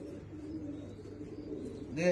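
Tolī-type pigeons coo in a low, soft murmur close by, while a person speaks over them.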